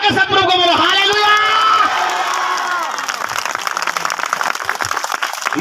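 A church congregation at a prayer meeting bursts into loud applause and cheering, with whoops and raised voices swelling over the first few seconds, then settling into sustained, dense clapping that carries through to the end.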